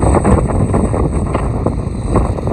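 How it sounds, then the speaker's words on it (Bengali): Strong wind at Umiam Lake in Meghalaya buffets the microphone in a steady, loud roar with no pauses and no voices. "বিভৎস হাওয়া এখানে"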